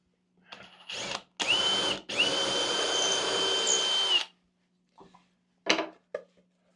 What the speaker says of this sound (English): as I drill